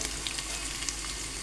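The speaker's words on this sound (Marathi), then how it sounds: "चिरलेला कांदा टाकून झाला. ते चांगला भाजावं म्हणून त्याच्यात टाकायचं थोडंसं मीठ" Chopped onion with a little salt frying in a pan, a steady close sizzle with faint crackles running throughout, no voices.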